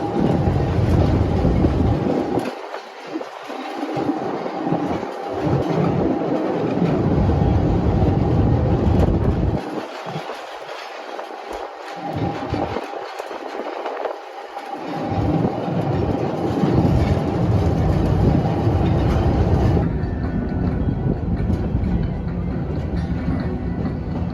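A Busch Gardens railway train crossing a trestle, loud continuous rumbling and rattling of wheels on track throughout, with deep low swells and breaks and a brief shift in tone near the end.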